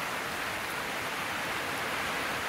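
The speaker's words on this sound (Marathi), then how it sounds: "पाऊस जोरात येतोय इकडून" Heavy rain falls in the Konkan countryside, a dense, unbroken hiss of downpour that stays loud and even throughout, with no voices.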